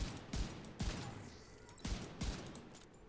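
Scoped rifle fire in The Division 2, four sharp distant-sounding shots in two pairs, each a short crack with a brief tail, over faint background game ambience.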